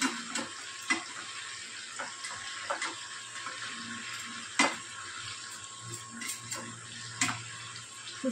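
Shell-on prawns fry in a pan with a steady, quiet sizzle, punctuated by scattered sharp crackles and spits, heard alone without talk.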